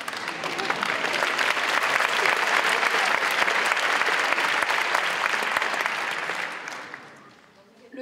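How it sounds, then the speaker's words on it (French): Sustained audience applause at a 2018 public-speaking contest final, dense and steady for about seven seconds before fading out near the end, with faint voices mixed in. "Merci d'applaudir les 3 premiers"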